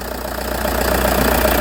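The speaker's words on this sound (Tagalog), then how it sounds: "pinandar na yung makina." A Toyota car engine idles steadily after an oil change and brake and timing belt work, a loud, close, even low rumble with a faint ticking rhythm and no talking.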